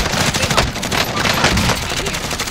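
Rapid gunfire bursts and overlapping shots in a Call of Duty Warzone match, loud and continuous through the whole moment, with a voice talking faintly beneath the shooting.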